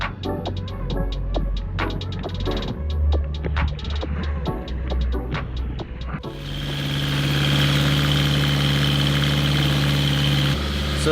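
Sailboat diesel engine with air in its fuel system idling unevenly, first a choppy, knocking rhythm with clanks and short bursts, then a louder, steadier throbbing hum that rises and holds.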